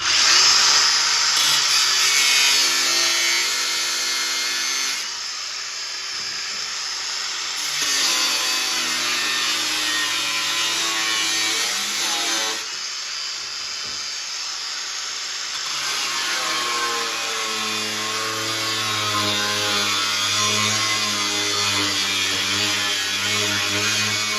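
A power saw whines through an arcade PCB upper bracket to finish a line cut, a loud, continuous buzzing drone with slight pitch changes as the blade loads and eases across about twenty-four seconds.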